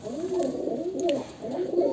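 Breeding pigeon pair cooing in a loft, three rolling coos in a steady rhythm, close and clear, with a faint chirp from another bird in between and no talking.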